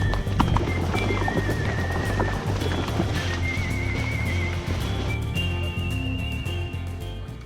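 Horses at Camping La Floresta in Salento whinny among hoof clops and thin whistling sounds, moderately close, with a steady low hum underneath.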